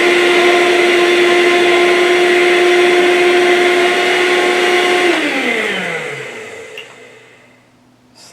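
A Hoover Cyclonic vacuum cleaner runs on suction only with the brush roll off, a loud steady whine and hum close by that then winds down after being switched off.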